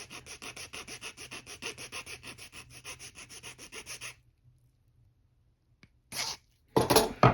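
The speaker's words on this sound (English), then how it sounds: "I just take an old school file and just file that off real quick" A hand file rasps along a plastic edge in a steady run of about twenty quick back-and-forth strokes, then stops; after a pause come two short, louder scraping bursts close by.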